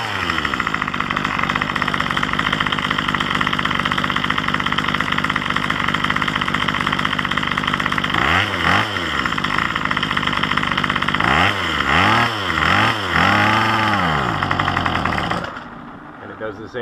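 A Craftsman string trimmer's small two-stroke engine running during carburetor tuning: a loud, close buzzing drone that holds steady, then bogs and surges in several dips before dying out, with a voice speaking over it.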